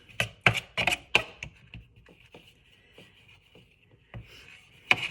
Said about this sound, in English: I'm just going to break these up into a few more pieces like this to get this more melty.